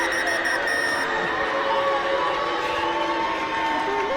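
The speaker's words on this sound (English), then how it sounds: "boos from the crowd drown out the final whistle" A rugby stadium crowd at a Celtic Challenge match, Glasgow Warriors against the Wolfhounds, roars and boos loudly and continuously at the final whistle, with a commentator's voice over the noise and faint whistle-like tones above it.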